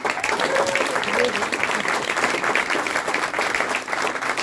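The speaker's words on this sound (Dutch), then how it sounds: "En ik wil graag een hartelijk applaus over je voor Miranda." An audience at a jazz concert by a swing band gives warm, sustained applause, dense clapping from a large crowd filling the hall, with some voices mixed in.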